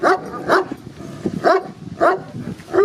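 A dog barks in short bursts, four or five distinct barks with brief pauses between them, fairly close and moderately loud.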